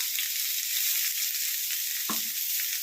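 Shredded cabbage, grated coconut, ginger, green chilli, onion and curry leaves fry in hot oil in a pan, giving a steady, close hiss of sizzling with one brief clink of a utensil partway through.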